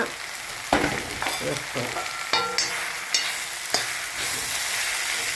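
Bitter gourd with green chili, curry leaves, turmeric and salt sizzles in a pan, with repeated loud stirring scrapes against a constant frying hiss.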